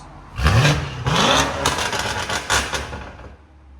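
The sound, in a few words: BMW M850i twin turbo V8 revving, catless exhaust valve open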